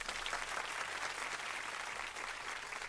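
A studio audience gives a round of applause welcoming a turntablist, steady even clapping that fills the whole moment, fairly quiet and without voices.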